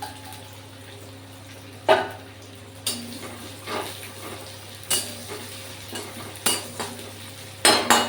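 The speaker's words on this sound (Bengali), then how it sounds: "এতে পেঁয়াজের ফোড়নটা দিয়ে দিই" Onion tempering fries in a pan for a bhetki fish dish, a soft continuous sizzle punctuated by a series of sharp metallic scrapes and clinks of a spoon against the pan.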